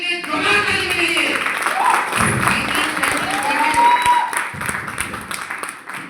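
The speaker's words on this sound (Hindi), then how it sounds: "स्वागत करने के लिए जोरदार ताली बजाइए" Applause from a party audience welcoming a guest, steady clapping running the whole stretch with a loud crowd and tonal music or voices mixed over it.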